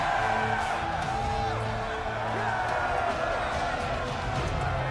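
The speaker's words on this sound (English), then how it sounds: "Why does it sound like a football stadium cheering?" A crowd cheers in the fantasy role-playing game Dragon Age: The Veilguard, a dense, continuous roar like a stadium, with a few whoops above a steady wash of voices and talk mixed in.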